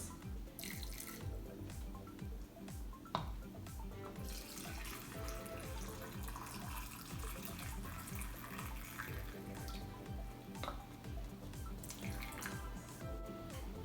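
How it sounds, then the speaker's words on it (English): Vinegar solution pours steadily into a jar of cooked pickled beets, a continuous close liquid stream with bubbling and dripping throughout and no talking. "So now we're going to add our vinegar solution and leave a ½ inch headspace."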